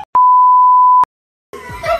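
A censor bleep covers spoken names during a French drinking-game challenge: one loud, steady electronic tone lasting nearly a second, clean and isolated, followed by a brief silence before talk resumes.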